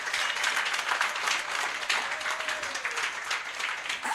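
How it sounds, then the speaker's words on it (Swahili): Church congregation at a deliverance service clapping for Jesus, a loud continuous wash of many hands applauding together, with a brief sliding tone partway through. "Asitupigie Yesu makofi"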